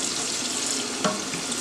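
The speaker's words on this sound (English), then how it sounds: "Run us some cold water in that." Cold water runs from a kitchen sink tap in a steady, close hiss for under two seconds, with a faint splash as it fills a pot of pasta.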